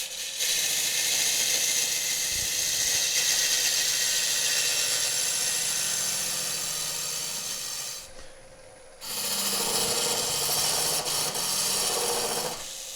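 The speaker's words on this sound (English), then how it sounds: "Look how well that cutter's cutting." A Woodcut ProForme hollowing tool cuts into wood spinning on a lathe, giving a continuous close scraping, rasping hiss that stops briefly, then resumes.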